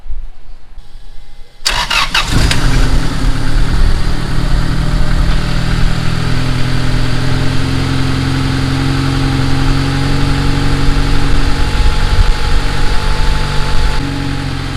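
A turbocharged Honda Accord engine cranks and starts after a short quiet moment, then settles into a steady, loud idle around 1200 rpm with a low rumble that holds to the end.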